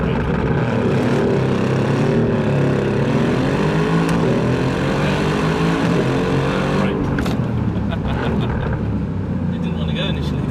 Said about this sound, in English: Whilst braking, stand on the throttle as hard as you can with no hesitation.